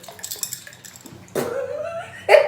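Rocks are dropped into water, giving a few small splashes and plops in quick succession, close and fairly loud, with light clinks before them and no speech.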